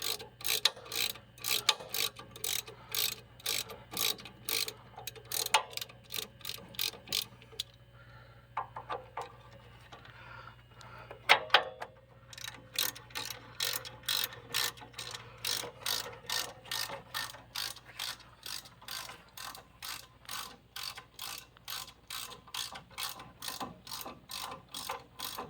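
A ratchet tightens the brake caliper bolts on a 2015 Chevy Silverado, with close, rapid, even clicking in long runs, one brief pause midway, then steady ratcheting again.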